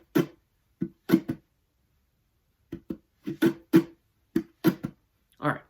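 Percussive acoustic guitar strumming without left-hand slaps, from a live looping version of a song: sharp, separate hits in a broken rhythm, close and fairly loud, with short gaps of silence between groups.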